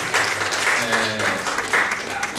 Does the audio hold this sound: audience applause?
yes